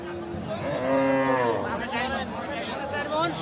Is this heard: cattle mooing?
yes